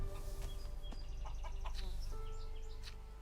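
Chickens at a nest in the game Risen cluck and chirp in quick, repeated bursts, close and clear over a low background hum.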